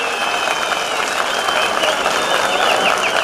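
A crowd applauds the first contestant at a traditional sheep-jumping-over-water festival, with steady dense clapping and a busy crowd murmur throughout.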